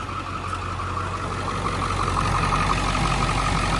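A 1975 Chrysler Imperial engine idles steadily nearby at an auction, a constant low rumble with a faint mid-pitched hum and no other sounds.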